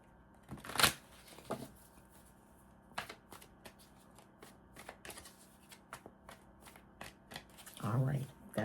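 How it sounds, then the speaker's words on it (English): Tarot cards are shuffled in a run of quick, crisp riffles and taps, with louder bursts at the start and near the end. "All right, that's it for the shuffling."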